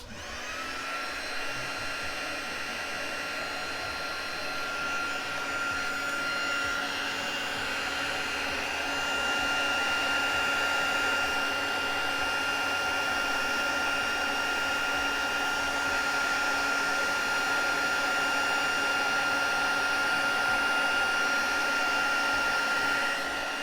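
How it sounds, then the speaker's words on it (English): A heat embossing tool blows steadily for a long stretch, a constant close whirring rush with a thin high whine and no pauses. "we will just heat these just now with my heat tool. So it'll be a little bit noisy"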